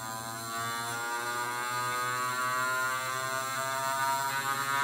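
Battery-driven gyroscope spinning at about 12,000 RPM, a steady close electric-sounding hum with a whine rich in overtones, continuous and unvarying throughout with no talking.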